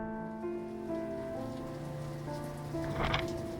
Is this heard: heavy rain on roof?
yes